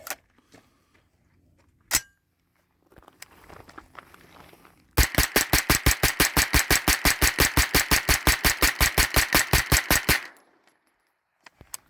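A 9mm carbine fires a full magazine in one long, rapid burst of evenly spaced, loud, sharp shots lasting about five seconds, preceded by a few scattered clicks and handling noises and followed by quiet.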